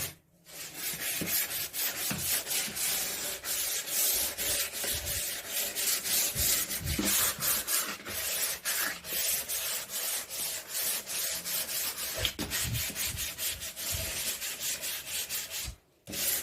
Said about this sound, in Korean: 올라온 나무를 전체 사포를 해서 좀 매끈하게 다듬어 줄게요.